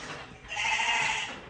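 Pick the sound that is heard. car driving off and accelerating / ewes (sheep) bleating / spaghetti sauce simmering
ewes (sheep) bleating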